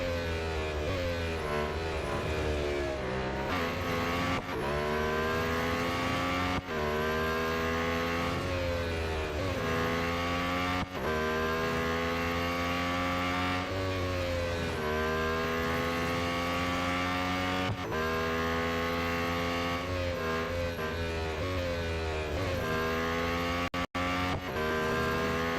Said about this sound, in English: that car sounds like a Formula 1